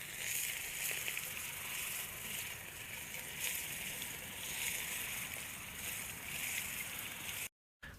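Two 32-ounce jugs of beef broth pour into a stew pot set off a cooking fire, making a steady, continuous gurgling splash that runs for several seconds before a brief cut near the end.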